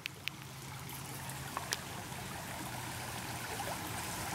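Creek water flows steadily at night near Frog Creek, a soft continuous trickling wash with a few faint clicks and drips on top and no voices.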